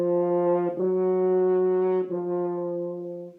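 A French horn sustains long, steady notes from a 2021 school horn tutorial, with two brief note changes between held tones, close and fairly loud with no talking.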